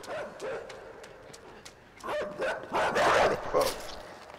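Dogs bark and yelp in Playdead's game INSIDE, a series of sharp, excited barks that builds into a louder flurry of overlapping yips, close and aggressive, as if the dogs are chasing.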